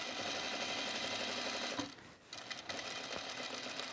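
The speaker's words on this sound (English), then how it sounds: "So I'm just going to put in a stay stitch here." A sewing machine runs a stay stitch through fabric, a steady rapid whirring that breaks off briefly near the middle and then resumes.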